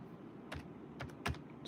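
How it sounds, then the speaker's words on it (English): Someone types on a computer keyboard in a home office: a few soft, scattered key clicks and one sharper tap, faint against a quiet room background. "So if you see me typing away."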